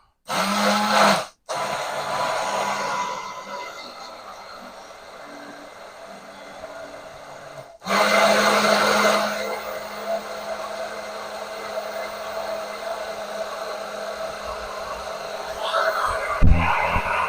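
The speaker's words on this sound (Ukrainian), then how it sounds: "І отак тримаємо і збиваємо. І робиться домашній майонез." A hand blender whips egg into homemade mayonnaise with a steady, loud motor whir that runs almost the whole time, cutting out twice for a moment and shifting in tone as the mixture thickens.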